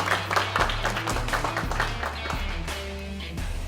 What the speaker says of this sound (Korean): 여러분 박수로 환영해 주시길 바라겠습니다